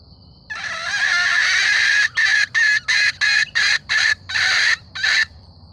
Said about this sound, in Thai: นี่ครับเสียงไก่ตัวผูเนาะ